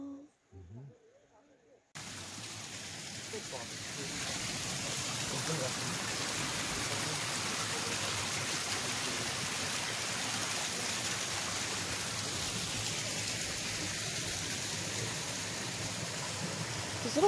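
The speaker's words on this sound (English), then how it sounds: "we can hear the waterfall" Steady broadband rush of a waterfall, continuous and fairly loud after a brief quiet start, with a short murmured voice near the beginning.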